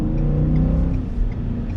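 A 2021 Ford F-150 XLT Sport pickup with a V8 engine accelerates under throttle, its loud, deep engine drone held steady and close throughout.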